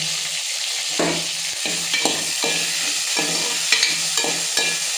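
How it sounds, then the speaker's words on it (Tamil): Tomato, onion and green chilli frying with fennel and fenugreek seeds for fish curry, loud close sizzling broken by repeated rhythmic spoon scrapes and stirs against the pan. "தக்காளி வெங்காயம் பச்சை மிளகாய் எல்லாத்தையும் போட்டு கலக்கிறோம்."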